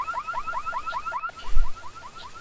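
An alarm system ringing in the video game Sunrise, a rapid warbling electronic chirp repeating in quick cycles at steady volume, with a brief dull thump near the end and no talking.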